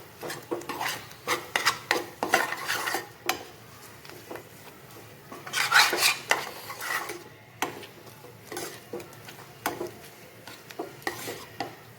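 Chopped coriander being stirred into a semolina samosa filling in a pan, heard as bursts of scraping and clinking from a spoon against the metal, with short pauses between strokes and no talk.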